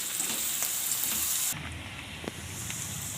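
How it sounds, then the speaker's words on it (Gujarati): Capsicum sautéing in a pan for Indian-style masala pasta, a close bright sizzle that drops to a softer frying hiss partway through, with a few utensil taps and no speech. "આને કેપ્સિકલને આપણે થોડુંક શેળવી લઈશું આમાં"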